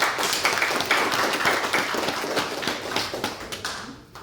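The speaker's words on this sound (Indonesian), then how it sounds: "Beri aplaus yang sangat meriah." An audience at a workplace training event for construction workers in Toraja Utara claps steadily for several seconds, a dense patter of hands that thins toward the end.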